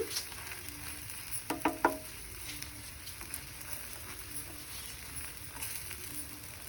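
An egg dosa cooks on a hot pan with a soft, steady sizzle and faint crackle, broken by a few brief clatters of a utensil early on.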